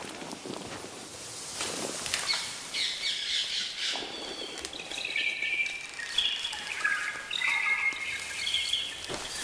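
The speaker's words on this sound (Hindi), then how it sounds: "वो पंछी जिनकी आवाज देश की बाकी हिस्सों में सुनाई नहीं देती।" Birds in a movie scene squawk and chirp in scattered high calls over a rustling background, with soft steps or flutters mixed in, fairly close and no talk.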